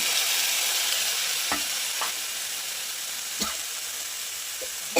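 Onions and tomatoes frying and being stirred in a pan while making Maggi noodles: a continuous close sizzle with occasional spoon knocks against the pan.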